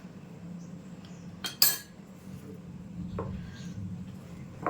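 A spoon clinks and scrapes in a bowl while soaked sugar is mixed into biscuit dough, soft intermittent stirring with a couple of sharper metallic knocks against the bowl, close and quiet.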